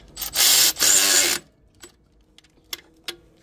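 A power tool tightening a 14 mm bolt, two short loud whirring bursts close up, followed by a few faint clicks and taps.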